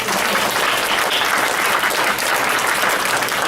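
Audience applause for political candidates at a 48th district candidates forum, a steady dense wash of clapping from a large crowd filling the whole stretch without pause.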